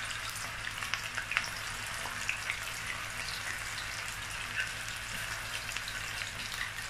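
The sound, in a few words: tomato paste added to a frying pan, sizzling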